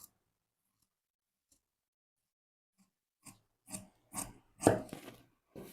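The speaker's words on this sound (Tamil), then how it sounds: "இப்போது ஆம் ஹோல் வந்து கட் பண்ணி எடுத்துக்கிறேன்" Scissors snip through blouse fabric while cutting out the armhole, a few short crisp cuts close by after a quiet stretch, growing louder toward the end.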